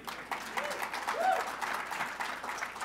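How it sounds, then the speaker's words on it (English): Audience applause at an award ceremony, a steady spread of clapping from a seated crowd holding at even loudness for a few seconds, with voices briefly audible beneath it. "they deserve an applause"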